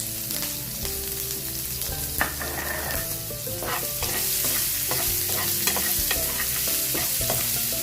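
Onions sautéing in a pan with asafoetida and curry leaves for sambar, a steady sizzle broken by scraping stirs and clinks of a utensil against the pan, close and fairly loud.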